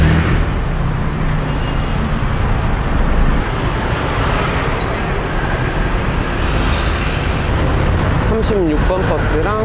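Congested Bangkok street traffic rumbles loud and continuous, with engines droning close by and a passing vehicle whine near the end.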